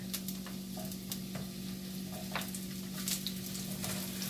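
Onions frying in a pan for spicy shrimp and cabbage, a soft, steady sizzle with scattered crackles and pops under a constant low hum.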